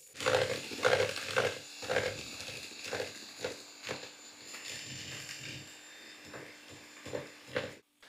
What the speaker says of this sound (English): start mixing with the beaters, gradually adding the dry ingredients